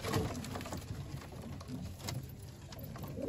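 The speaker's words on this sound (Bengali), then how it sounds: "ছোট্ট লকটার মধ্যে অনেক পায়রা আছে, ভালো ভালো পায়রা আছে।" Madras pigeons in a small loft coo softly and shuffle about, with low throaty calls and faint fluttering and pattering scattered through a quiet indoor space.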